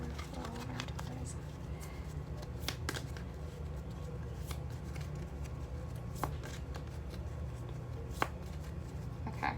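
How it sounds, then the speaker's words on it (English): Tarot cards being shuffled by hand, a steady soft riffling patter with scattered sharper snaps, close and quiet throughout, with a low background hum. "I'm hearing I need to shuffle one more time."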